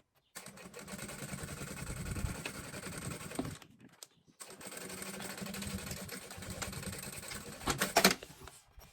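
A sewing machine stitching a cosmetic bag, a steady mechanical whirr running slowly in two long stretches separated by a short pause, close by with a few clicks at the end, no speech.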